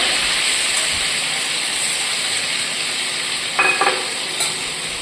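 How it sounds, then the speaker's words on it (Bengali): Pointed gourd fries in a pan with a steady, bright sizzle and hiss, broken near the end by a couple of brief clinks of stirring. "পটলগুলো ভাজাবো"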